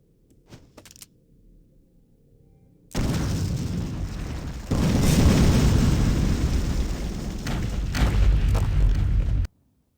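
Explosions in the video game Clive Barker's Undying erupt after a quiet start: a sudden loud blast swells into a second, heavier booming roar that rumbles on, then cuts off abruptly.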